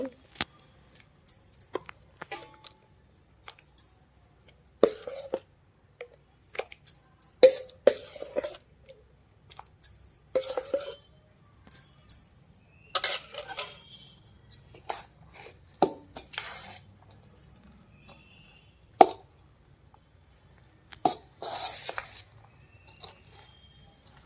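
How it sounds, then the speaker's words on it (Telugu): Tamarind juice being mixed by hand into cooked rice for pulihora, heard as scattered soft clicks, squelches and taps against a vessel with quiet gaps between them. "ఇప్పుడు చింతపండు పులుసుని ఇలా మనం అన్నంలో వేసేసుకుని కలిపేసుకుందామండి"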